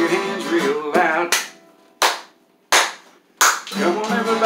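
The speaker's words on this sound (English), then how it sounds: "Come on, everybody, clap your hands real loud." Three loud, sharp hand claps with a steady gap between them, set between bursts of singing in a 1963 rock-and-roll song.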